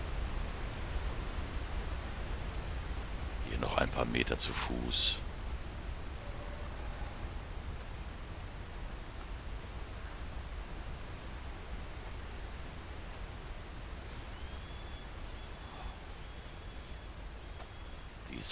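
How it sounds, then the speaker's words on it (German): Continuous broad rushing of a waterfall fills the scene evenly, with a brief rustling clatter early on and someone speaking briefly over the steady roar. "hören das Rauschen des Wassers."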